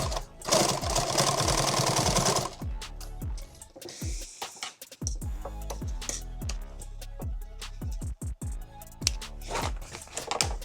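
A sewing machine stitches a pistol magazine pouch in bursts of rapid mechanical clatter, starting with a long loud run, then shorter stop-and-start runs, close by.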